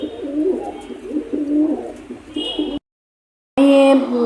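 A pigeon coos close by in soft repeated throaty calls, a brief gap of silence, then a louder, clearer coo at the end.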